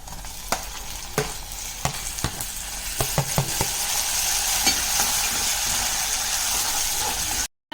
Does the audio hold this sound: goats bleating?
no